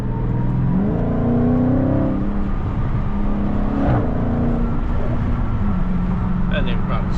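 A Dodge Charger Scat Pack engine hums and swells while cruising on a highway, its tone rising and settling under steady road and wind roar, with voices talking over it.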